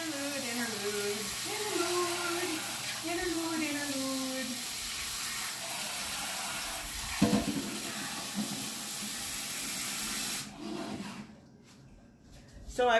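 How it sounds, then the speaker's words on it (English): Hot water poured off boiled eggs into a sink, a continuous rushing pour for several seconds under a low hum, ending abruptly into near quiet. "So I've poured off all of the hot water."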